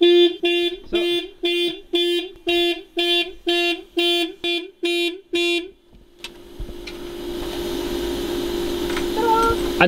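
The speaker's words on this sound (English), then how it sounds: "Oh no, the alarm." A car alarm sounds nearby in loud, evenly spaced repeating electronic chirps for about six seconds, then stops, leaving a steady hum and faint background noise.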